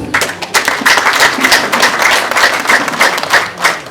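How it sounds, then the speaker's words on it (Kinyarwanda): Guests applaud at a wedding celebration, a steady, dense wash of many hands clapping at once, sustained and fairly loud without a break, with no speech standing out. "untize amashyi tubanze dushimire uyu muryango."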